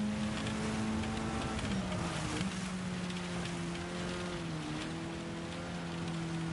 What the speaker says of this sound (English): we see that rain still absolutely torrential outside